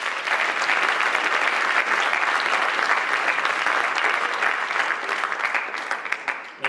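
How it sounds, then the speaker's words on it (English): Audience at a high school winter sports awards night applauding, a dense, steady wash of clapping from a large crowd that holds strong throughout and thins slightly toward the end. "So let's give them a round of applause"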